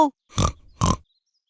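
A little cartoon pig in an animated Tagalog fairy tale gives two short grunting bursts, close and clear, with no talk over them.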